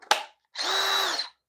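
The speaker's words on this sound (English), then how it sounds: "My drill right here." A power drill near the mic gives a short sharp burst and then a steady whine of just under a second, all on its own with no talk.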